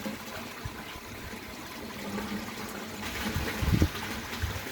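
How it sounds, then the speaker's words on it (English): Water drains through an aquaponics bell siphon back into the sump, a steady trickling, gushing flow that builds to a louder gurgling surge near the end, with no talking. "So that's seeing the automatic siphon in action."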